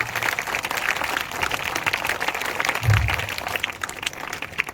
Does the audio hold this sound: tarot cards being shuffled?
no